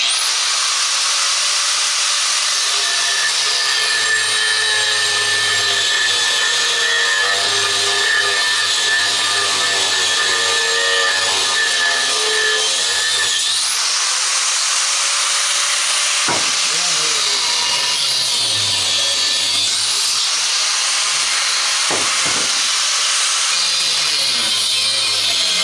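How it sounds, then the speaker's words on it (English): An angle grinder cuts black plastic while a miter saw is scrapped out: a loud, close, steady high whine that shifts pitch partway through, with brief bursts near the end. "probably one of the safest, easiest ways to get that out would just be angle grinder"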